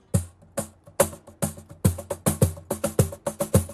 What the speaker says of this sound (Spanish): se quedó impactado por el sonido del cajón